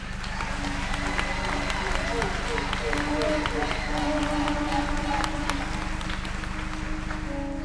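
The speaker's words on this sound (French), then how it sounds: "je vous demande d'applaudir fortement le frère Terence" An audience at a political meeting in Martinique applauds steadily, a continuous, even wash of clapping that stays close and full for the whole stretch, with a faint tonal murmur running underneath.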